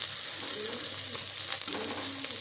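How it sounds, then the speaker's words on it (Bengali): Long-cut eggplant slices frying in oil in a pan for begun bhaja, a steady close sizzle with faint stirring. "আমি একটু বেগুন ভাজাও করে দিচ্ছি"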